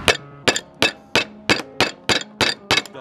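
A hammer strikes a jawbreaker candy in eight sharp, evenly spaced hard knocks, each close and loud with a brief clinking ring and quiet between blows.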